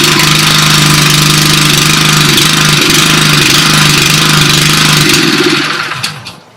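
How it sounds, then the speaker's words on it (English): A Honda engine on a Westermann WR870 moss brush machine runs at a loud, steady mid-pitched drone close by, then dies away over the last second. "To start the machine, we push the throttle to the start position, we depress the deadman's handle and pull the starter cord."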